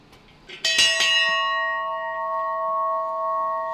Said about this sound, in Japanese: 願いを込めて鐘を鳴らしたいと思います